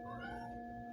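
A house cat gives a single short meow, close and fairly loud, over a low steady indoor background.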